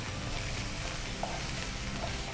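Coriander and onions fry in a pan for paneer burji, a steady close sizzle with faint stirring scrapes throughout.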